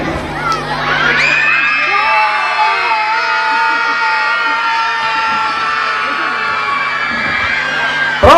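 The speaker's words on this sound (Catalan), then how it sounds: "Us mano i us obligo que feu un gran crit." A crowd of schoolchildren at a school carnival proclamation lets out one long, loud, sustained shout, a dense wall of young voices held for several seconds near and full, ending abruptly.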